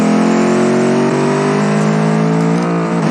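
A 1990s-style track supercar in BeamNG.drive revving loudly, its engine holding a high, steady rasping drone that climbs slightly in pitch, close and alone.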